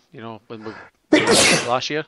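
A single loud, close sneeze bursts out between short stretches of casual conversation in a podcast setting, with voices talking just before and after it.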